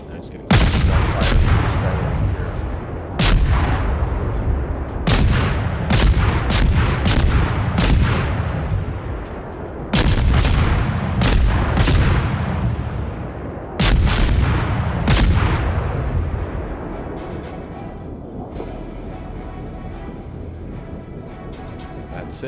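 Artillery and gunfire in the World War I video game Verdun: repeated loud booming blasts and sharp shot cracks in irregular bursts, the reports decaying into a rumbling tail as the barrage thins toward the end.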